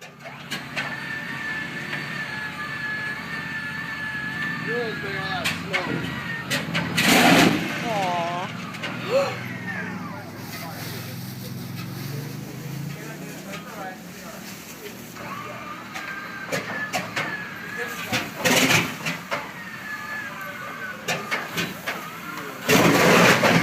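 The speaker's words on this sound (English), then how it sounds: "Pratt Whitney R4360 radial engine backfire." A Pratt & Whitney R4360 radial engine on a fish-stocking plane runs roughly and backfires, with several loud sharp bangs over a rumbling idle, close and strong, while people talk.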